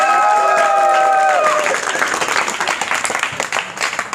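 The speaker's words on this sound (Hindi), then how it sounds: "बजाओ ताली।" A crowd applauds at a medal ceremony for elderly athletes at Ahilyabai Holkar stadium. Dense, loud clapping starts under a fading tonal sound, then continues alone with some scattered voices in the background.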